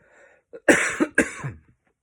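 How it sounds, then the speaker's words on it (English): A person coughs several times in quick, harsh bursts, close up, after a brief throat sound, at the tail end of a cold. "I just feel more coughing coming on."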